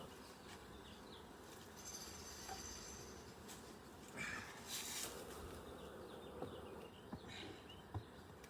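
Honeybees from a recently captured swarm hive buzzing around the box as it is rearranged, a faint continuous drone with occasional louder passes of individual bees near the microphone, no talking.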